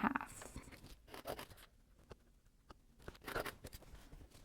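Scissors snipping through a paper sewing pattern for a lingerie set: a few short, crisp cutting bursts with a quiet pause in between, close and alone with no talking.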